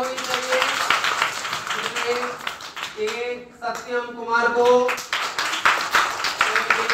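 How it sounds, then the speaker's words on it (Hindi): Schoolchildren and teachers clap to welcome new pupils receiving pencils at a school, a steady patter of hand claps heard under an adult's speaking voice. "जोरदार तालियां होनी चाहिए"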